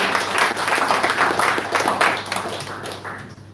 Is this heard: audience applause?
yes